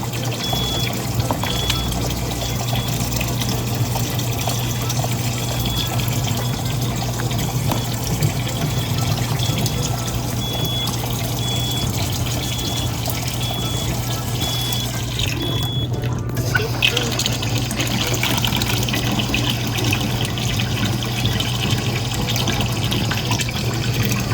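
Water running and dripping steadily from a leaking Kangen SD501 water filter during a filter replacement, a continuous close trickle with a low hum underneath and no talking.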